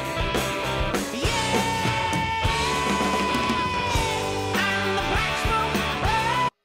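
Drum kit playing along with a backing track of recorded music, with a tom fill leading into a crash cymbal among steady loud drumming, cutting off abruptly at the end.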